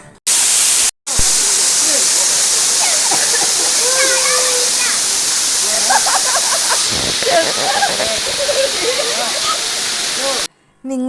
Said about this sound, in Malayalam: നിങ്ങൾ വെള്ളം വീഴുന്ന സൗണ്ട് കേട്ടില്ലേ?